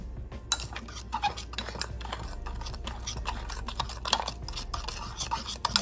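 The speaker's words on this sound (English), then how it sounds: "It says to gradually add milk, so we're gonna add a little bit and then stir it." A spoon stirs cocoa powder and milk in a cup, giving a steady run of small clinks and scraping rubs against the sides, close and fairly quiet with no talking.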